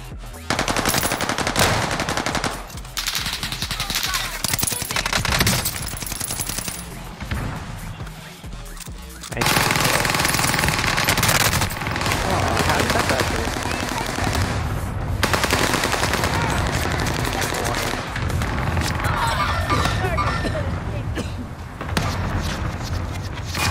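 Rapid automatic gunfire from a shooter video game, loud and dense bursts with short pauses, close and continuous throughout, with little talk over it.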